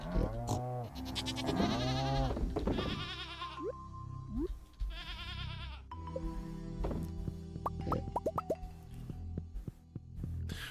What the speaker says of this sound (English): Would you goats hurry up and reproduce?